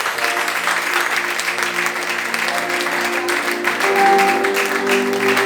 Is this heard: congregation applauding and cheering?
yes